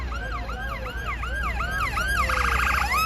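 A London Ambulance Service ambulance passes through Parliament Square during a protest, its siren sweeping in repeated wails and then switching to a rapid yelp, loud and close over traffic rumble.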